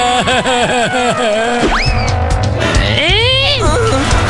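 Cartoon car skidding with a sliding, squealing tire sound, then a crash, all under animated character voices in a Sinhala children's cartoon.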